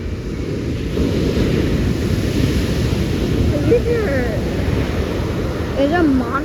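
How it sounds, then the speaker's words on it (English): Big ocean waves break and roar continuously at Aliso beach, a loud, rumbling surf wash with wind buffeting the microphone. "I've never seen waves this big at Aliso."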